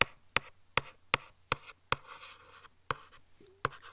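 Pen strokes while writing an answer by hand to an AQA A-level chemistry past paper: a steady series of crisp taps and short scratches, roughly every half second, close and fairly quiet, with no talking.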